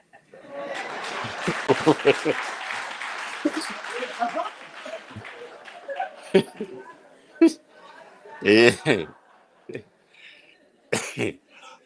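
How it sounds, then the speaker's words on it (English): Scattered audience clapping at a political party media briefing, uneven bursts amid coughs, throat clearing and chuckles, with a speaker talking over the start before the clapping breaks out in short loud flurries. "I don't know what the clapping is all about"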